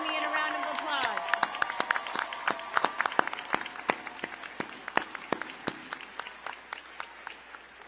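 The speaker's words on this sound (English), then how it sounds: "Please join me in a round of applause." At a winter university commencement, a crowd claps in a large hall, starting dense and loud and then thinning into scattered, distinct individual claps. Speech is heard at the very start.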